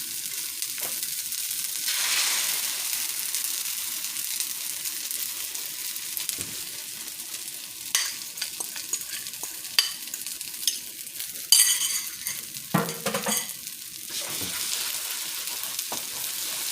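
Eggs sizzle and fry in a hot pan over medium-high heat for a single breakfast serving, a steady crackling hiss with occasional louder bursts and clinks of stirring, close and clear without talk.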